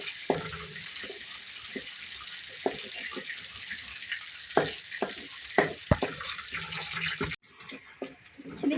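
Cumin seeds and chopped green chilies fry in hot oil in a pan as the base for a ridge gourd sabzi. A steady sizzle runs under intermittent spoon clinks and knocks, and the hiss drops briefly near the end.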